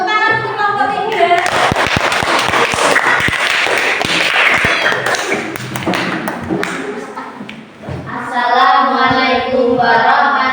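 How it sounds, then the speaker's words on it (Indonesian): A classroom applauds group 3 with a dense burst of clapping lasting several seconds, with voices speaking before it starts and again after it fades. "Beri tepuk tangan untuk kelompok 3."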